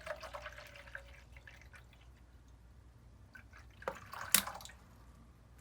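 Water trickles and drips as it is filled into a LOL Surprise toy, faint close-up pouring with a few louder splashes near the end and no talk.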